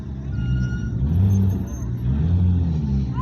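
A Porsche engine revs at a classic car meet outside the Dovecote Inn in Laxton, a deep rumbling roar that swells twice, close by, with faint background voices.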